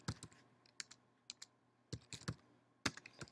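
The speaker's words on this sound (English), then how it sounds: "When I type his name here into Google" Fingers tap out a name on a computer keyboard for a Google search, sounding as short clusters of crisp clicks separated by pauses, close and fairly quiet, with no talking.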